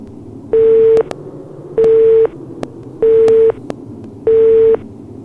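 Telephone line tone from the Resident Evil Survivor video game: four evenly spaced half-second tone bursts about a second apart, loud and steady over a low background hum, with no talk.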